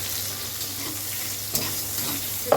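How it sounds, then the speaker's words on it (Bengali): Quiet, continuous sizzle of bitter gourd frying in a pan, with a couple of brief clinks from stirring near the end. "এবার উচ্ছেগুলো ভেজে নেব"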